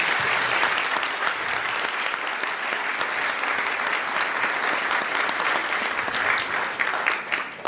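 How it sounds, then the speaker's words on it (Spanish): Steady applause from an audience fills the hall at a Peruvian university vocational fair, a dense, even clapping that continues loudly for several seconds in honor of teachers. "Te damos un fuerte aplauso a todos los maestros del Perú."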